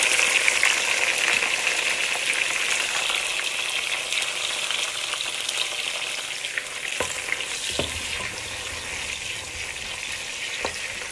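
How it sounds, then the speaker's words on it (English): Tomatoes, onions and jalapeno fry in hot oil, giving a steady, close, full sizzle throughout with a few brief stirring knocks and scrapes near the end. "I'm gonna throw in my tomatoes, onions, and jalapeno. I'm gonna let it fry up a little bit."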